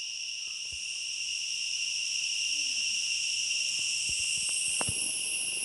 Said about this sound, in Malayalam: ചീവീടിൻ്റെ സൗണ്ട് കേട്ടോളിയേ.